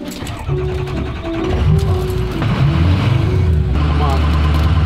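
A bus engine works hard while accelerating up a hill, a loud droning growl with pitch rising and shifting, heard from inside with a voice talking over it.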